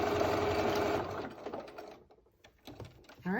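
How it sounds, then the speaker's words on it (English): A sewing machine stitching a cloth face mask, a close, rapid mechanical stitching run that slows into a few separate clicks and taps before a short burst starts again. "This little bit of sewing, and then we'll move on to the ties."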